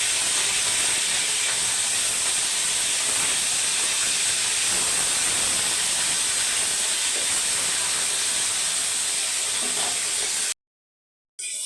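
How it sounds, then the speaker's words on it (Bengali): Katla fish pieces being turned over as they fry in hot oil until reddish, a loud, steady, close hiss and sizzle with faint crackle, stopping abruptly just before the end and then resuming. "মাছ উল্টে পাল্টে ভেজে নেব লাল লাল করে।"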